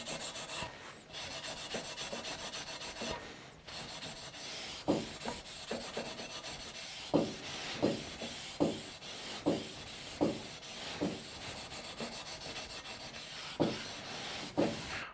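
Folded hand pad scrubbing a stainless steel surface by hand, a soft steady rasp that turns into rhythmic back-and-forth strokes, each one a distinct close scrape.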